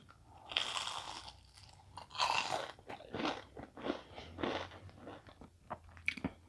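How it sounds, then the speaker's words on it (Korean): Crispy fried shrimp dipped in chili sauce crunches between the teeth in a series of close, loud bites and chewing bursts, with no talking. "이번에는 칠리 소스 한번 찍어 먹어볼게요"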